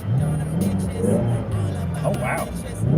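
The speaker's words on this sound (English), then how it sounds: "This is the exhaust on sport mode," A car's exhaust set to sport mode rumbles low and steady, with the engine revving throughout; a person talks over the engine noise.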